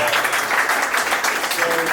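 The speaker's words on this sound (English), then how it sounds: "Let's give a big round of applause to Dre for even" A large audience applauds a keynote speaker at a coaching-business event, a steady, dense wash of clapping that stays loud for the whole two seconds.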